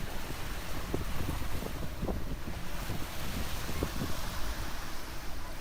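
Soft, continuous wash of gentle sea waves at Semizkumlar beach, Silivri, Istanbul, with a low rumbling hiss, steady and unbroken, no voices.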